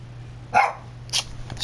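A dog barks in two short bursts, roughly half a second apart, fairly close and loud over a steady low electrical hum in a home; no talking is heard.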